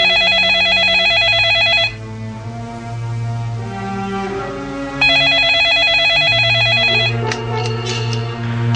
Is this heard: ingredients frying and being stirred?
no